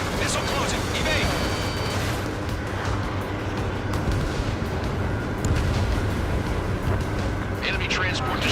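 Ace Combat 7 enemy transport aircraft exploding in a fighter-jet mission, a dense, rumbling explosion blended with continuous jet-engine roar and booming fire, loud and sustained throughout, with radio voices talking over it.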